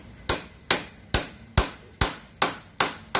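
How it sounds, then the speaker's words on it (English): Two hammers strike old wood stumps to knock them off, giving eight sharp, evenly spaced knocks close by, each ringing briefly before the next blow. "There's a lot of these stumps that I need to remove. I don't have something to remove it, so I'm going to use 2 hammers."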